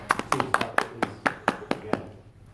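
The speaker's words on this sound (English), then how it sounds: "They clapped." A small group claps in a slow, sparse rhythm of about ten distinct hand claps over a couple of seconds, fairly close and sharp, with talk in the background.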